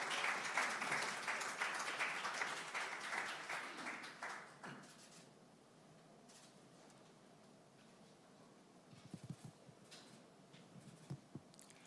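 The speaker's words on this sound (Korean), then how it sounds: "큰 박수로 환영해 주시면 고맙겠습니다." Audience applause at a political party presidential primary candidate vision presentation welcomes the next speaker to the stage, loud sustained clapping for about five seconds that then fades into a quieter hall with scattered faint sounds.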